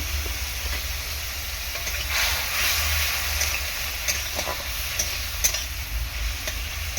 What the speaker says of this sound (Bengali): একটুখানি জল অ্যাড করেছি যাতে মশলাটা খুব ভালোভাবে কষিয়ে নেওয়া যায়